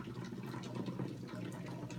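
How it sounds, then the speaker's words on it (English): Hot water pouring into the bottom of a container: a steady, continuous splashing gush, moderately close and unbroken. "You pour about 2 inches, you can see how hot it is, of hot water into the bottom,"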